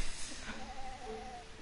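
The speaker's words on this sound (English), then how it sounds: "I hear a sheep." Sheep bleating, a single wavering bleat held for over a second, moderately close against a soft background hiss.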